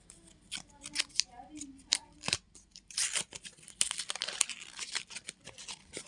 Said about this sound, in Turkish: Şimdi bir tane futbolcu tasu açıyoruz